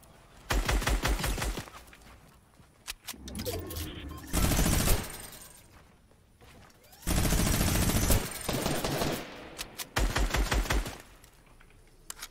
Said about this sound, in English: The minigun's back!